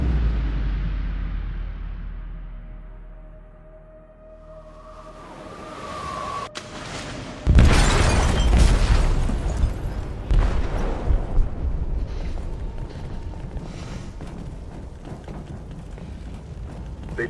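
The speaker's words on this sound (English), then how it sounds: "They detonated an explosive in the hold." An explosive detonates in a ship's hold with a sudden heavy boom. Before it, a low rumble fades down. Afterward, crackling debris and a long rolling, churning roar continue loudly.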